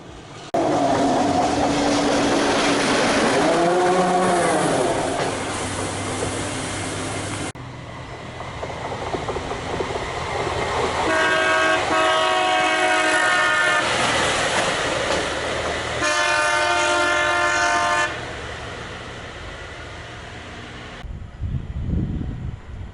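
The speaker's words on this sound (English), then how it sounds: "2 track vehicles travel along the CSX line." Two track maintenance vehicles roll along the CSX Trenton Subdivision rail line, a loud continuous rumble with steel wheel noise and squealing tones that rise and shift as they pass close by, fading near the end.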